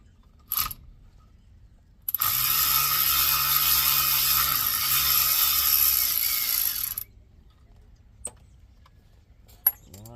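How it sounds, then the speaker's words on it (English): A ratchet loosens small 8mm bolts on the speed sensor of a 2005 Ford E350 van, cranking in a steady continuous run of about five seconds up close, framed by a few isolated clicks and clacks. "we're taking the speed sensor off. There's two 8mm bolts."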